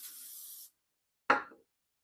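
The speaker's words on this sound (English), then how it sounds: "I'm going to spray the paper." A single long spray burst of cleaner onto a piece of paper, followed by a short soft rustling scrape after a pause, close and quiet.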